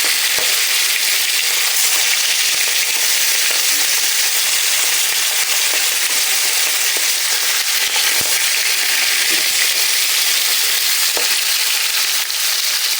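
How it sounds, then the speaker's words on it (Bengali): Rohu fish frying in hot oil in a home kitchen, a steady dense sizzle and crackle running unbroken throughout, loud and close with faint scattered pops and no talk. "দেখেন মাছটা আমার এক পিঠ ভাজা হয়ে গেছে"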